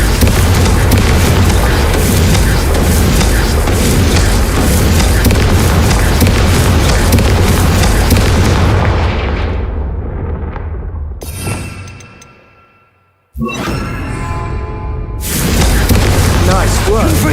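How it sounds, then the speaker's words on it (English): Confringo fire spells blast candelabras inside Hogwarts in the Hogwarts Legacy game: a loud, continuous booming, crackling roar fills most of the stretch, then drops away before two shorter bursts return. "Confringo! Have a go at those candelabras."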